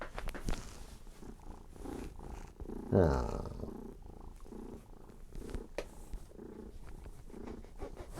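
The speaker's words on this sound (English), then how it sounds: "Bring her here so we can hear the purr." A cat purrs softly and steadily up close, with a brief person's exclamation and some handling noises over it.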